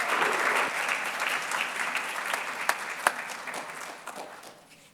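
An audience at the Downstate Honors 2023 awards ceremony gives steady applause, a thick crowd of clapping hands with a few sharper claps standing out, fading toward the end.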